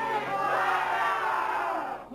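A live audience at a folk song performance shouts the name McIntyre together at the top of their lungs, one loud sustained crowd roar of voices that trails off at the end.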